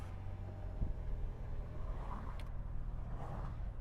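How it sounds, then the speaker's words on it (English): A steady low rumble of road and wind noise fills a truck cabin with the windows up, constant and muffled, with no voices. "That should buffet some of the wind and road noise coming through by a fair amount."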